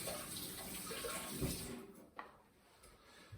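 A kitchen utensil is rinsed under a running tap while baking a red velvet cake. A steady, close rush of water lasts about two seconds, then stops, leaving faint handling noises.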